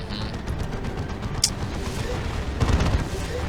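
A Stormlord tank opens fire in a Dawn of War 2 Retribution battle, a rapid fusillade of heavy gunshots and booms rattling on steadily, with a sharper blast midway and a louder flurry near the end.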